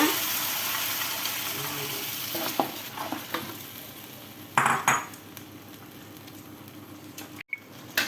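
Spices for chicken liver rendang go into a hot pan with a steady sizzle, then a spoon stirs and scrapes against the metal in short clinks and clatters, close by.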